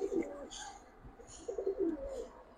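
Several white and colored pigeons cooing in a pigeon collection, soft low coos repeating in short bursts with faint higher chirps and rustling in between, fairly close.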